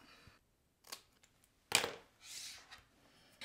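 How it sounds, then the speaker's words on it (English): Scissors snip the top off a paper tree piece for a stepper card's front panel: a few quiet, crisp cuts spaced apart in a near-silent room. "It's a little long, so we're just going to cut it off"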